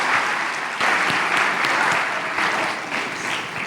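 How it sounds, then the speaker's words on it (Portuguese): A church audience at a marriage event led by a pastor couple gives a dense, steady round of applause, loud and continuous for several seconds with no voices over it. "Dá uma salva de palmas aí, gente."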